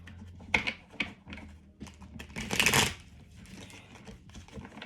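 Quick, papery riffling of a slippery tarot-style reading deck: a few crisp bursts close by, with a louder flurry in the middle, then soft handling noises.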